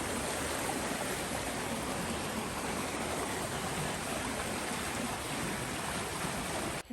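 A rain-swollen mountain stream on the Appalachian Trail rushes past in a loud, steady broadband roar that fills the whole clip without letup, cutting off abruptly at the very end.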